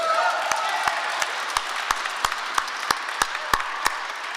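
Audience applause at a Utah volleyball press conference: a thin spread of clapping with sharp individual claps standing out at a fairly steady rhythm, moderately near, with no talking over it.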